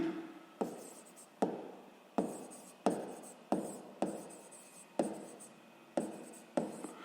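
Pen strokes on paper during a sixth-grade math lesson: a quiet, regular series of about ten sharp scratching strokes, each starting with a tap and fading, spaced under a second apart, with no talking.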